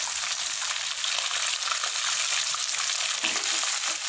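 Two kilograms of chicken for chicken karahi fry in a pan, producing a loud, dense, unbroken sizzle with light stirring noises underneath.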